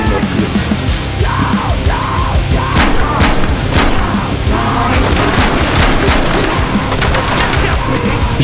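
Rapid gunfire bursts fill a Metro Awakening video game fight, with dense loud shots, booms and crashes layered over each other almost continuously throughout.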